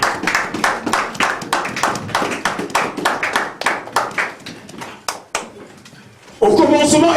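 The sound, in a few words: congregation applauding the word of God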